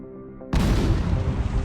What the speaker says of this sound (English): Every workday, at least 2 or 3 explosions echo across 40 square miles of barren desert